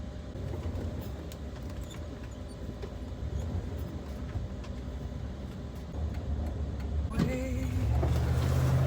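Steady road rumble from inside a moving van on a summer road trip, a continuous loud drone of engine and tyre noise that swells slightly toward the end, with no talking.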